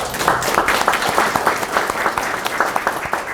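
A crowd at an indoor political party meeting applauds steadily, many hands clapping in a dense, continuous patter for a few seconds.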